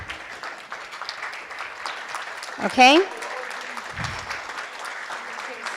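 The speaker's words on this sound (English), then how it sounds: "they deserve another round of applause" An audience at the 2018 LULAC Florida State Convention applauds steadily for scholarship recipients, a dense, sustained clatter of clapping with a brief voice rising above it midway.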